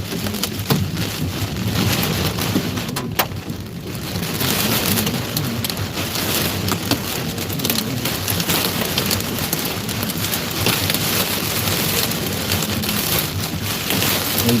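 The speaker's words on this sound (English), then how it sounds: "just sheets and sheets of blinding rain" Heavy rain pours down in sheets during a severe thunderstorm with hail in Mississippi, a loud, steady dense roar that continues for the whole stretch with no voices.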